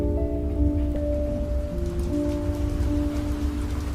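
Steady patter of rain on a moving train, dense and even, layered over a low rolling rumble and faint sustained tonal hums from the carriage.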